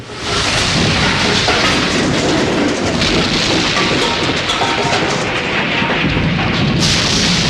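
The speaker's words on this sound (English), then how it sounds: "tosses the flare into the store, causing a huge explosion" A film sound effect of a huge explosion set off in a shopping-mall store by a thrown flare: a loud, dense blast with a long rumbling, crackling tail that stays heavy throughout, then a sharp burst near the end.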